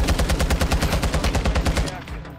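Rapid automatic gunfire in a shooter video game, a fast even burst of about twenty close, loud shots that tapers off near the end, no talking.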